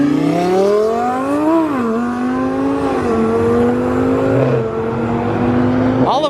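A Sheepy Racing twin-turbo Lamborghini Huracan drives past while leaving a cars-and-coffee meet in Texas, its loud engine rising and dipping through gear changes before a sharp final rev.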